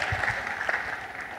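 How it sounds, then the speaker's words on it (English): An audience applauds at a scientific conference opening ceremony, a short burst of moderate clapping from a crowd that stays fairly even and fades slightly toward the end. "I was expecting a better round of applause"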